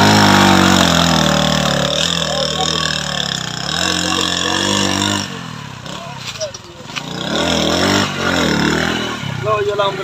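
A motorcycle engine labours loudly up a steep slope, its low throb rising and straining with revving swells, briefly easing midway before pulling hard again, with speech mixed in.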